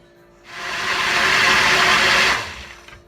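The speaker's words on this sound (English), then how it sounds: "Just going to secure the lid here and blend it on high until everything is smooth." A blender runs on high, whirring through coconut milk pumpkin pie filling; a loud, steady motor roar starts abruptly, holds for about two seconds, then cuts off, with no talk.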